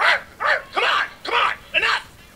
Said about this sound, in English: The dog going off.